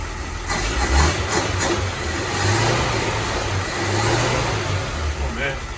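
A flathead 237 cubic inch DeSoto engine revs in uneven low swells, a close mid-pitched rumble rising and falling several times, with a voice talking over it.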